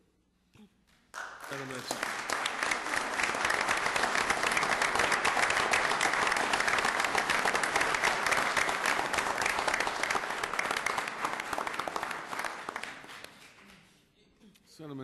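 Sustained applause from a council meeting audience rises quickly and holds steady for over ten seconds before tapering off, with a voice beginning to speak at the end.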